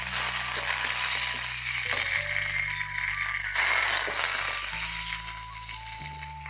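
Mustard seeds, cumin, urad and chana dal and curry leaves fry in hot oil in a pan for tempering, giving a loud, continuous sizzle and crackle over a steady low hum, with no talking.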